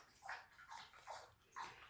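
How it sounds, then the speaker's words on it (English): A dog laps water from a bowl, with soft, quiet, rhythmic slurps repeating about four times in quick succession close by. "My dog's getting a drink."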